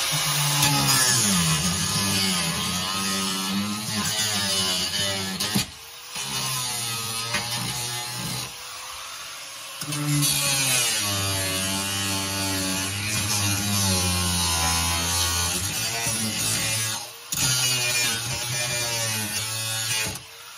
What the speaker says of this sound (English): let's go ahead and grind these off